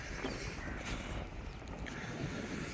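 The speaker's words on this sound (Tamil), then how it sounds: "ஆமா என்ன காத்து அடிக்க ஆரம்பிச்சிட்டு." Wind gusts buffet the microphone outdoors by the water on a village fishing trip, a rough, continuous rumble with faint swells of water and no voices.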